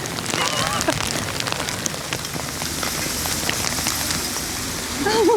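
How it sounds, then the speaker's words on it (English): Hail pelts down on an Edinburgh street in a dense, close patter that builds toward the end, with voices exclaiming over it. "And then came the hail."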